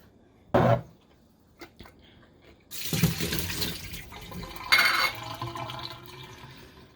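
Running water from a tap rinses pickles in a sink, coming in two fuller bursts with a quieter trickle and clinks between, close and alone.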